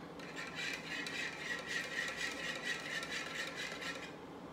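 A can opener cranks open a second can while biko is being made in a home kitchen, giving a steady, close ratcheting rasp with a rhythmic grinding pulse throughout and no talking.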